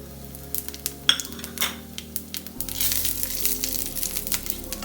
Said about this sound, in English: Back to our pan, I've added 1 tablespoon of oil, and into this first I'm adding the fennel, cumin, and the peppercorn.